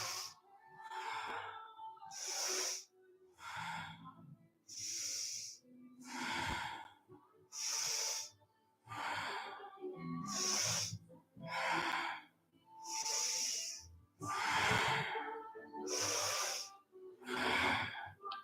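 Deep yoga breathing through the nose, about a dozen slow, close, rhythmic inhales and exhales, each a full airy rush separated by brief pauses.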